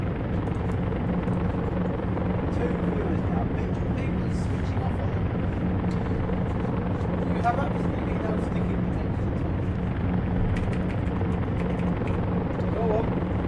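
The engine of a Vickers Vimy in Flight Simulator X drones on as a constant, steady propeller rumble, loud and unbroken through the whole stretch, with someone talking over it at times.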